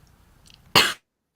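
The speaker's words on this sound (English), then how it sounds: "apparently we're still not over the coughing" One short, sharp burst of coughing from a nearby person during a livestream, loud and abrupt against quiet background, over in under a quarter second.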